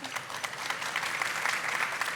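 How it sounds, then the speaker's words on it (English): Audience applause after a cybersecurity investment panel, a steady dense patter of many hands clapping at moderate distance, filling the moment without any voices over it. "Big applause for all of them"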